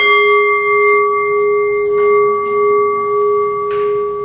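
A classic Tibetan singing bowl rings with a steady, sustained tone and layered overtones, with a few light taps adding brief metallic accents over about four seconds, close and without talk.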